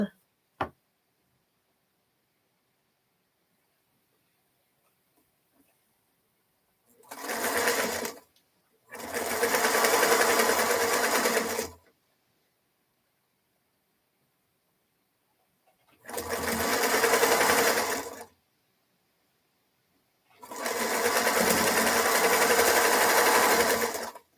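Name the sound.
sewing machine stitching fabric pieces together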